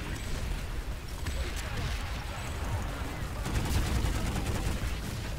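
Video game infantry combat with continuous rolling gunfire and distant blasts forming a dense, steady battle din, while a player talks over it.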